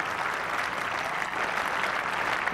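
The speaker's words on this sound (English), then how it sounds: "Applause for Manjrekar." A cricket crowd applauds a dismissed batsman, a steady, dense wash of clapping from many spectators that holds evenly throughout.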